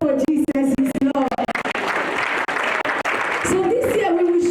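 A church congregation breaks into a burst of clapping during a sermon, the steady applause rising between stretches of a preacher talking before and after.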